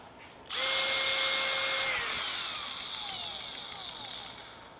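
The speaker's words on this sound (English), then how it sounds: "So if you're drilling and it grabs something, it actually shuts the tool off." A Makita GPH01 40V XGT cordless hammer drill driver whirs up sharply to a high, steady whine, then its pitch slowly sags as it keeps running, close and loud with no talking.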